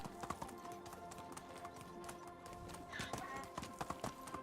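Horse hooves clip-clop in quick rhythmic taps while riding in the medieval video game Medieval Dynasty, a steady light gait running throughout at moderate distance with faint game ambience beneath.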